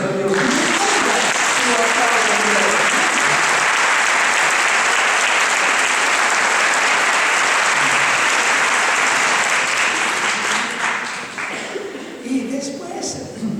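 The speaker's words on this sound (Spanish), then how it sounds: "¿Por qué no aplaudimos a Dios?" An audience at a Catholic teaching session applauding, loud sustained clapping for about ten seconds that then thins out, with a voice speaking as the clapping fades.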